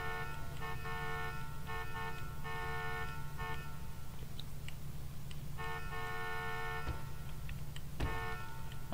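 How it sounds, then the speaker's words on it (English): Car horn of a Koenigsegg Agera in The Crew video game, sounding in several sustained honks of a few seconds each, separated by short gaps, over a low engine idle. "Honk the horn a little bit."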